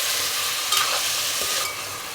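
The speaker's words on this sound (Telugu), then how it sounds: "చూడండి, మష్రూమ్స్ వేసి కలుపుకున్నాం కదా. ఒక 5 నిమిషాల పాటు ఇవి నూనెలో అయితే వేగనిద్దాము." Mushrooms and onions frying in oil are stirred in a pan, with loud close sizzling and scraping spoon movements across a short stretch and no voices.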